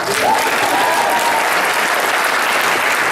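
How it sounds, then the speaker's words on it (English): A crowd at a PAX East 2014 panel applauds steadily and loudly throughout, with a brief whoop near the start. "No, clap for that girl."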